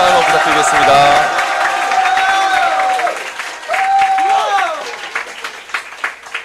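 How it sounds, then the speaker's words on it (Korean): Audience applause at a youth committee launch and appointment ceremony, a steady wash of clapping that fades and flares over several seconds, with a loudspeaker voice and tonal background sound running underneath. "큰 환호 부탁드리겠습니다."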